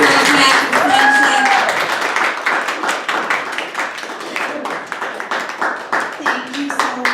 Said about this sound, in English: I'm not sitting down, keep clapping.